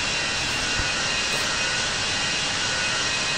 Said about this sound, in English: Taking off on that wrong side of the runway.